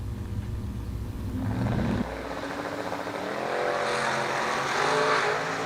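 Drag race launch at a racetrack, a Cutlass against the Dream Ride Camaro: loud engine roar with revving, a sharp shift in pitch about two seconds in, then sustained high-revving engines pulling away, no talk.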